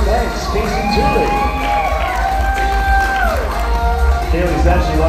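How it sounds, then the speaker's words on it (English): A pageant audience cheers and claps in a continuous loud roar, with high shouts or whistles rising through the crowd noise and a voice speaking underneath. "A round of applause for Albert Banks, Casey Tooley."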